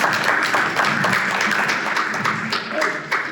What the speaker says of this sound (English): Yeah, we can start the clap.